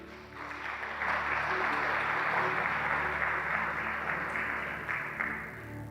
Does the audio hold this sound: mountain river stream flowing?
no